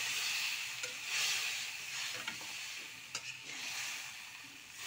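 Spices frying and being stirred in a pan in a home kitchen, a steady close sizzle with soft scraping strokes from the stirring and occasional brief clicks, faint overall with no talking.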